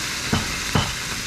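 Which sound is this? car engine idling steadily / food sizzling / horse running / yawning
food sizzling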